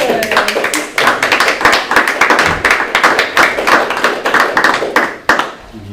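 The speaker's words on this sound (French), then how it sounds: "on peut s'applaudir comme un merci" Attendees at a municipal council meeting clap as a thank-you, a loud, close patter of individual hand claps from a small group, sharp and somewhat uneven, fading near the end.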